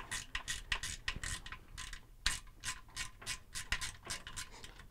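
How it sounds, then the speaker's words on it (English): A ratchet wrench clicks in quick repeated bursts, loosening the 1/4-inch motor mounting bolts on a Kenmore, Whirlpool or Roper washer that won't agitate. The ratcheting is close and steady with brief pauses between strokes. "we're going to do is remove the 1/4-inch mounting bolts for the motor"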